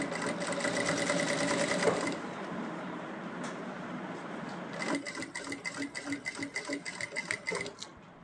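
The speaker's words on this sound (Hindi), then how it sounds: "अब हम ऐसे ही पहले राउंड में एक सिलाई लगाएंगे।" A sewing machine stitches a ban collar for a kurti, its rapid mechanical chatter running loud and steady, pausing briefly, then resuming in quicker pulsing bursts nearby.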